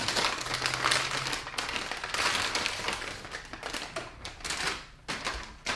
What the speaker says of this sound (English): Get out of this crinkly wrap in here.